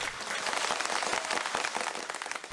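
Applause erupts in the Chinese control room as the unmanned Tianwen-1 lander touches down on Mars, a dense, steady wash of many hands clapping throughout, with no voices.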